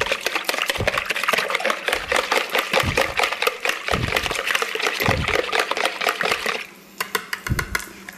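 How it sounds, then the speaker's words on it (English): Rapid rhythmic clinking of a whisk against a bowl, quick repeated strokes close by, pausing briefly near the end. "Whisk this together real quick."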